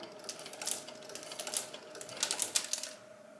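A sewing machine stitches a baby crinkle book in several short, uneven bursts of rapid mechanical clatter, fairly close but quiet, with no voices.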